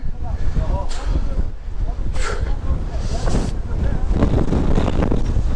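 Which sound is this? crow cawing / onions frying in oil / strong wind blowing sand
strong wind blowing sand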